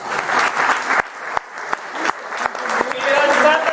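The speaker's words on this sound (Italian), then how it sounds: "Applauso." Applause from an evening audience at a dialect event, a mix of crowd clapping with a few sharper individual claps standing out, while a voice speaks over part of it.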